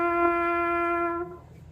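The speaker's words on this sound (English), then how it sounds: "So I'll just play a G." A French horn with its mouthpiece turned to the 12 o'clock position plays a single sustained G tuning note, steady and moderately loud, then cuts off cleanly with no talking.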